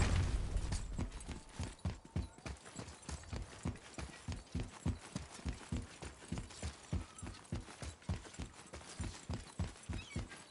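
Horse hooves clip-clop in a steady trotting rhythm in God of War, a long run of evenly spaced footfalls at moderate loudness with no talking.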